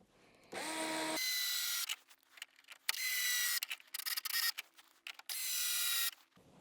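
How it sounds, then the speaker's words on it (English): Power driver setting screws into an RC sand car kit, running in several loud whirring bursts of a second or so each with short pauses between, close and without speech. "included in the kit are some additional screws which we're going to put into the front"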